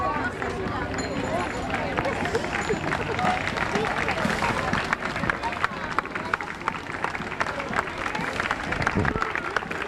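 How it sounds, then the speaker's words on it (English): Warm applause and crowd noise from spectators at a 1994 Salem Heritage Days street parade greeting the Velvet Knights, a steady wash of clapping and chatter running the whole stretch at moderate distance. "The Velvet Knights getting a very warm"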